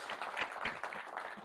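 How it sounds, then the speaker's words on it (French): Audience applause at a talk on trust in agile teams, a short burst of dense, even clapping from a seated crowd, moderately loud and with no speech over it. "on peut l'applaudir une deuxième fois"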